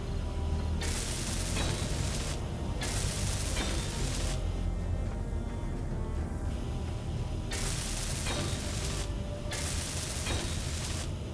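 Blocks being welded in the video game Space Engineers: a loud, continuous mechanical hiss and grind that cuts in and out in long bursts over a constant rumbling hum.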